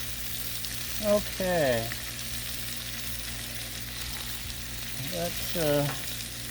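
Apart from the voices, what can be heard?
bacon and vegetables sizzling and splattering on a griddle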